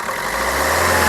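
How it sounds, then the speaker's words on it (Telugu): A 2018 Maruti Suzuki Vitara Brezza VDI diesel engine runs at a steady idle, a close, even rumble with a constant low hum and no voices. "ఒకసారి ఈ కారు సింగిల్ సెల్ఫ్లో స్టార్ట్ అవుతుందా లేదా అన్న చూపిస్తాను"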